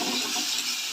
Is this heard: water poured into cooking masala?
yes